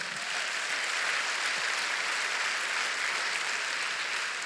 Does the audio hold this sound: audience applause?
yes